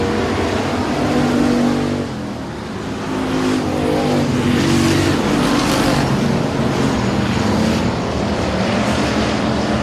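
Outlaw race cars roar around the track at Sabine Speedway in a loud, continuous wall of engine noise, briefly dipping before surging again as cars pass close by.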